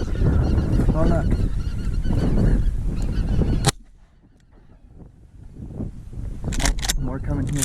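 Snow geese honk repeatedly during a goose and duck hunt in Alberta, loud overlapping calls, then a quieter gap and more honking, with hunters talking and a sharp gunshot-like crack.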